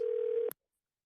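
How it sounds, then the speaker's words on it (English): A single steady telephone tone holds for about half a second, then cuts off with a brief click, followed by silence. "Did I just make a phone call sound?"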